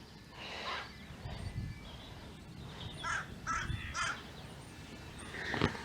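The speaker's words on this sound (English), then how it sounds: "and a crow." A crow caws several times at a campsite in the early morning, the calls fairly distant over a quiet outdoor background without talking.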